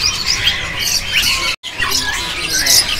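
Zebra doves of the udan mas variety in a bird kiosk, with a busy, continuous chorus of near squawks and chirps that cuts out for a split second midway.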